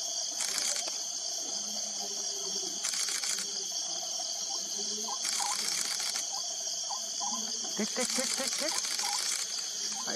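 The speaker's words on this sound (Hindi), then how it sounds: "हाँ ये हुआ शटर का साउंड" Camera shutter bursts while photographing an Oriental scops owl at night, with several clusters of rapid clicks at intervals over a constant high insect chorus and faint background murmurs.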